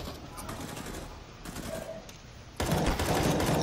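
Bursts of automatic gunfire in the video game CS:GO, moderately loud and steady, with a louder closer burst breaking in near the end.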